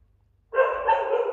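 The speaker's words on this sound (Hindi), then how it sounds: "अरे कुत्ता कहाँ से भौंक रहा है" A dog barks continuously for under a second, a dense run of barking that starts abruptly after a short quiet pause, heard from indoors during a lesson, moderately loud and close with no talk over it.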